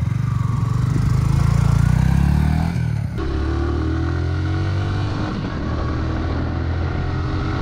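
A Yamaha R15 V3 150cc motorcycle engine revs up loud and close, drops off briefly, then settles into a steady running drone with a lighter rising tone. No one speaks.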